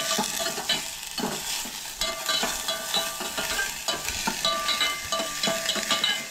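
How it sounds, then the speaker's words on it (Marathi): Onions and chillies fry in hot oil with a steady, loud sizzle. Repeated scraping stirs run through it, close up and with no talking. "तेज्या उपरांत कांदो, मिरसांगो, सो हे पयलीं तळसळून घेवंक जाय."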